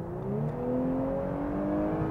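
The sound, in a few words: Audi S5 Cabriolet V6 accelerating from 60 to 120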